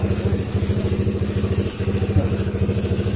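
Motorcycle being cleaned at a carwash below a terrace, with a steady, loud pulsing mechanical drone, likely a pressure washer pump, running throughout with a brief dip midway.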